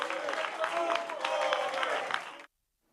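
Council members stand and applaud the mayor in a tense council chamber while protesters' noise rises over the clapping, a dense mixed clamour that stops abruptly.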